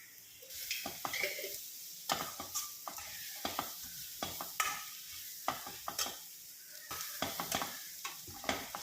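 Onions softening to light brown in a pan with turmeric and coriander powder for chicken molly, sizzling softly while a spoon scrapes and stirs in repeated irregular strokes, close and fairly quiet.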